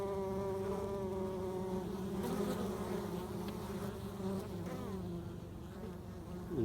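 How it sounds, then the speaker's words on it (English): Honey bees swarm at a hive entrance as workers fly in carrying pollen, giving a steady, dense buzzing hum that stays close and even throughout, with no voices. "You can probably see a couple of different colours of bees coming in here."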